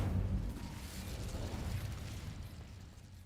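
The Incendio fire spell in the wizarding game Hogwarts Legacy releases a deep, roaring whoosh of flame that starts loud and fades gradually over about three seconds, heard alone.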